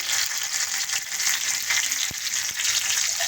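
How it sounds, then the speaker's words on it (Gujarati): Garlic and spices fry in hot oil for a sweet-and-sour Gujarati kadhi, giving a steady, close, continuous sizzle for a few seconds with no talking. "આપણે બધી જ આઈટમ તેમાં નાખી દેવાની રહેશે અને પ્રોપરલી તેને શેકાવા દેવી પડશે"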